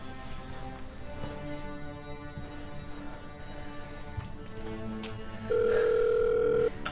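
After a quiet stretch, a single steady telephone ringing tone sounds for about a second, clear and electronic.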